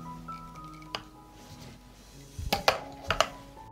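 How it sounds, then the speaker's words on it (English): Glass jars set down into a cooking pot lined with a cloth, a few dull clinks and soft knocks, one early and a cluster of three or four close together near the end, quiet and near. "I put the jars in the pot."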